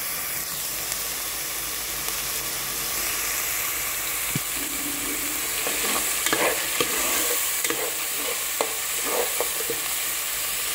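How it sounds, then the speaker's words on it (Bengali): Chopped onion and tomato sizzle steadily on a hot tawa, with a constant frying hiss broken by close scrapes and taps of a stirring spatula, and no voices over it. "দু মিনিটের মতন এটাকে সাঁতলে নেবেন।"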